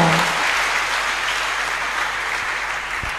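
A church congregation applauds loudly and continuously, a dense steady roar of clapping from many hands.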